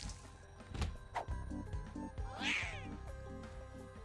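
A cat meows in a video game, a few sharp, clear meows and a rising caterwaul over a repeating synthetic game tune and soft thuds.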